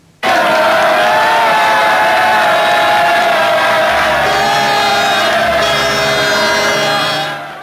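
A large crowd cheering the return of Falklands War troops, loud continuous roar of shouts, whoops and cheers that begins abruptly and holds steady throughout, with no speech over it.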